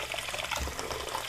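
Pressurized water pumped from a pool gushes steadily from a tap, a continuous close hiss and splash with no pauses.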